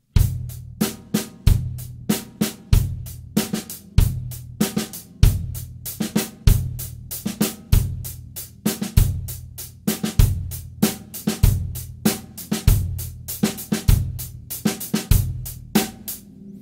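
A drum kit runs through sixteenth-note snare permutations with two snare strokes per beat in a funk-rock groove, kick and hi-hat keeping a steady repeating pattern, close and loud, with no talking.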